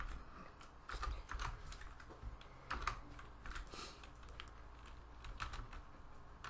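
Someone types at a computer keyboard in quick, uneven runs of soft, faint clicks for several seconds, with no voices.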